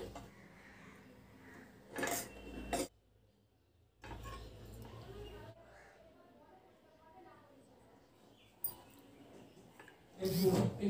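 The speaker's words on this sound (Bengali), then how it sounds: "এই বাটিতে আমি সার্ভ করে দেখাচ্ছি" Fish curry (aar macher jhol with mustard paste) is served into a bowl, with a few clinks and scrapes of a ladle or utensil against the dishware, fairly quiet, separated by soft background noise.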